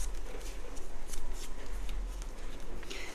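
Fabric being folded over a drawer box by hand: close, continuous brushing and rustling of cloth against the box, with small crisp flicks and rubs and no talking.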